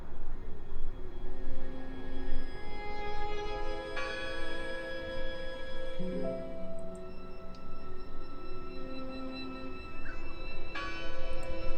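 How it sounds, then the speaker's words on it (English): A church bell tolls in the horror game Draugen, a few slow resonant strikes with long ringing decay over a constant dark ambient drone. "Listen! The bell!"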